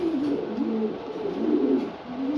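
Pigeons coo steadily in a low, rolling rhythm, several soft warbling calls overlapping close by with no other sounds.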